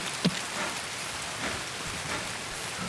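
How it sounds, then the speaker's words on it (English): Rain falling in the video game Escape From Tarkov, a steady soft hiss of drops spattering surfaces with a few brief louder patters, even and continuous with no voices. "Okay, it's raining"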